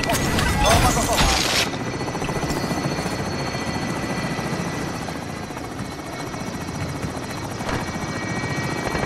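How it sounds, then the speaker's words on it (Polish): Helicopter in the video game Call of Duty Warzone, a loud, continuous rotor thrum and engine drone holding steady throughout, with a brief burst of game noise at the start. "Helikopter na miejscu czeka na depozyt."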